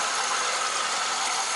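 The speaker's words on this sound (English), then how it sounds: "Let's get the engine warm." A Ford Transit engine idles while warming up, giving a steady, faint mechanical hiss and hum with a slight rattle and no speech.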